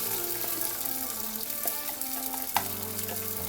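Fish curry masala with ground onion and tomato frying in a pan, a steady close sizzle with a faint tonal hum and one sharp clink of a utensil.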